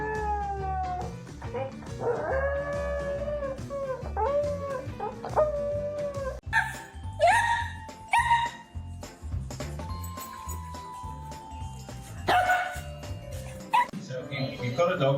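A dog howling and whimpering at a vet clinic, its drawn-out, wavering cries rising and falling over a noisy backdrop with people talking and music playing throughout.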